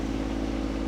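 A Jeanneau 350 Sun Odyssey sailboat's inboard engine running at just over 2,000 rpm, heard below deck beside the engine: a steady, loud low hum with a strong tonal drone and no talk.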